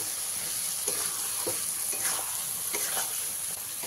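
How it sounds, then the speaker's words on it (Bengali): Fried potatoes stirred into a sizzling tomato masala for a fish roe curry, with a steady close frying hiss broken by several soft scraping stirs, no voices. "এবারে এর মধ্যে আমি দিয়ে দেবো ভেজে রাখা আলুগুলো। আলুগুলোকে মশলার সঙ্গে ভালো করে মিশিয়ে নেব।"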